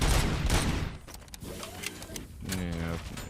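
Incoming gunfire aimed at the player in RoboCop: Rogue City rattles in a dense, loud burst. Someone talks over it as the shooting continues in short stuttering bursts.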